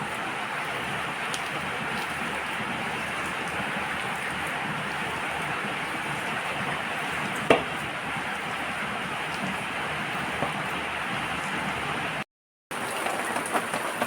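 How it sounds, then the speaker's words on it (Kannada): Heavy rain falls steadily in a broad, even wash of noise that holds constant throughout, with one brief sharp knock midway and a short dropout near the end. "ಮಳೆನೂ ಕೂಡ ಜೋರು ಬರ್ತಾ ಇದೆ"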